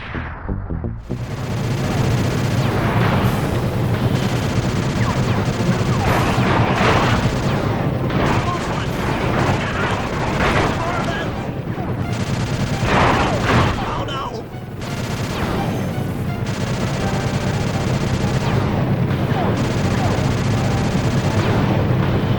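Heavy gunfire and booming blasts fill a loud action scene in the Sly Cooper: Band of Thieves game, with repeated shots and explosions layered over a dense rumbling mix and brief voices.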